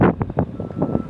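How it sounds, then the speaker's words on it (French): Wind buffets the microphone outdoors on a sunny day at Port Ouest, Réunion, giving a loud, uneven rumble with gusty swells over just over a second. "Le vent vient de face."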